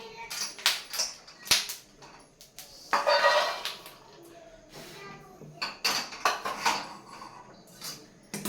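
Fresh peanuts dry-roasting in an iron pan, stirred with a spoon that scrapes and clatters against the metal in close, irregular bursts with brief pauses between them.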